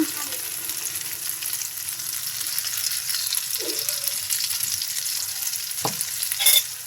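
Pasta and noodles frying in a hot pan, a constant close sizzle with a couple of brief utensil scrapes and a sharp knock near the end, no voices.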